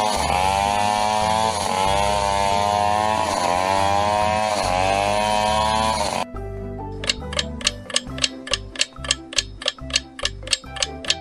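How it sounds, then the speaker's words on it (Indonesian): A chainsaw engine revs loudly and continuously for about six seconds with a wavering pitch, then stops abruptly and is followed by a string of regular ticks. "Ya, ini adalah suara gergaji mesin."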